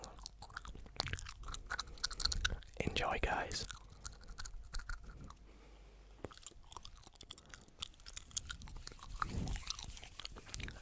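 Gum chewed close to the microphone during a card magic session, with wet smacking and crunchy mouth sounds in uneven bursts, mixed with soft whispered talk.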